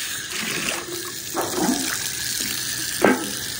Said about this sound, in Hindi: पानी से वो जो लोटा है ना वो भर दिया